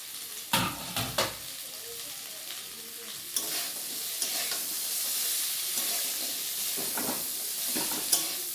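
Spices sizzle steadily in a hot pan while a spoon stirs and scrapes, with occasional sharp clanks against the metal, close and continuous, before cooked mung dal is added.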